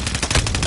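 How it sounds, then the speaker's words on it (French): Rapid gunfire in Call of Duty: Warzone Resurgence, a loud close burst of automatic shots in quick succession with no voices over it. "Je subis des tirs!"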